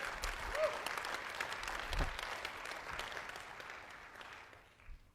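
An audience claps and cheers in a sustained ovation of dense, broadband applause that holds steady for several seconds before tapering off near the end.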